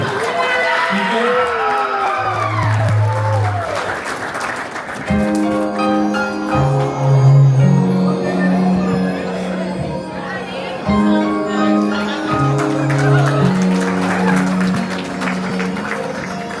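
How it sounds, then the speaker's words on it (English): Applause breaks out for newlyweds at a wedding show, broad clapping and crowd noise rising under an announcer's voice before music with sustained tones takes over. "Please join me in giving a huge round of applause for Mr. and Mrs. Nam Viiga"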